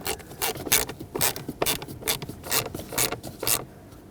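A screw being driven into the blower motor adapter ring of a 2011-2016 Ford F-350, heard as a close, rhythmic series of ratcheting clicks and scraping turns with no talk.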